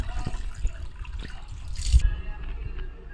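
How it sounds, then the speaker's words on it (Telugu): Raw prawns are washed by hand in water with turmeric, salt and a little lemon juice, giving close sloshing, dripping and splashing in uneven bursts. "పసుపు ఉప్పు అలానే కొంచెం నిమ్మరసం వేసుకొని బాగా వాష్ చేసుకోవాలి"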